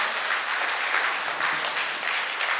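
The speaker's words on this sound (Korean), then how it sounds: "여러분 큰 박수 부탁드립니다." Steady audience applause fills a Korean talk concert hall after a trumpet performance, dense clapping holding evenly for a few seconds with no voices over it.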